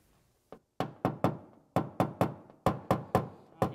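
A knockdown tool is tapped against a dent in auto body paintless dent repair, giving about a dozen sharp close knocks in loose groups of two and three, each ringing briefly.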